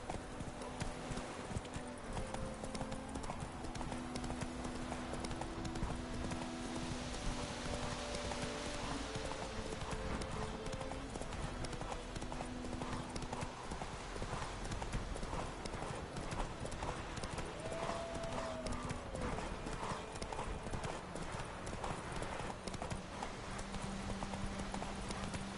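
Geralt's horse Roach trots in The Witcher 3, a steady, rhythmic clip-clop of hooves with a brief whinny, set under game music and ambient sound.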